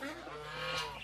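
Male goose giving a loud, hoarse honking call close by, one continuous harsh cry with rasping harmonics lasting about a second.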